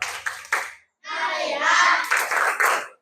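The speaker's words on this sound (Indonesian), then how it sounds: "Tepuk fokus." Classroom focus clap chant, with a few sharp claps at the start, then children chanting in unison, broken by more group claps, all fairly close and loud.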